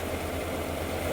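A Mazda 323 Familia with a new turbo setup idles with its dump pipe hooked to the factory exhaust and a leaking rear muffler, a steady, low, faint engine rumble.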